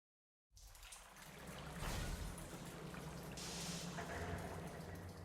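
Water trickling and pouring inside a drainage tunnel in the game Duet Night Abyss, a steady soft wash starting after a short silence, with faint splashes and a hissy bright layer, no voices.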